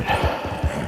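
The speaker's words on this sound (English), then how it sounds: "I don't know why my horse is freaking out." Horse in the video game Red Dead Redemption 2 stamps its hooves in a few quick, close thuds, a brief burst of restless footfalls.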